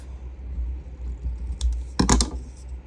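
Scissors trim the edge off a folded paper tag, giving a few quick, crisp snips close by against a low background hum.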